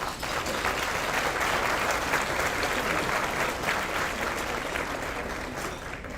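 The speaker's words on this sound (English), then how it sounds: "Can we give everybody a round of applause?" An audience at a Gold Standard of Optimal Aging awards ceremony gives sustained, dense applause, loud and steady throughout before tapering slightly near the end.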